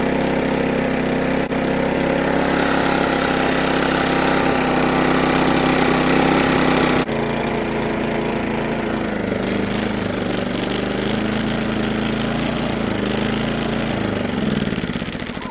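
An engine idles with a loud, steady, close rumble that holds for the whole stretch, shifting to a slightly different running tone partway through.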